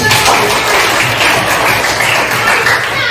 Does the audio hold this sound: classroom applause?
yes